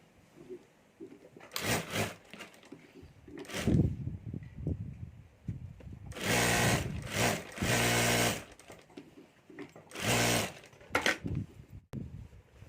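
A sewing machine stitches pockets onto a homemade multi-pocket purse in several bursts of rapid, even whirring, short runs at first and then longer stretches, separated by quiet pauses and faint handling clicks.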